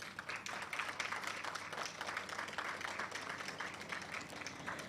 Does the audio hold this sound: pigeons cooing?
no